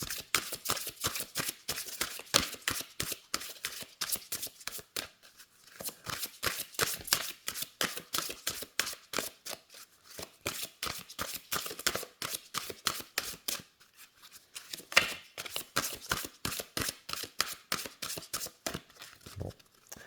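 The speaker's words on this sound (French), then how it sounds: "les cartes se mélangent très très bien" Lenormand oracle cards being shuffled over and over, a dense run of quick papery riffles and slaps with brief pauses between bursts, close and fairly quiet, with no talking.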